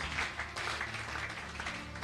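Soft, fairly distant applause from a church congregation acclaiming the Lord, a short continuous patter of clapping in a large room.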